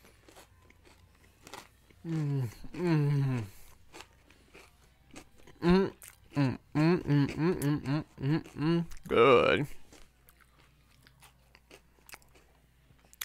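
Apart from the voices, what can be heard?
chewing crunchy chocolate ice cream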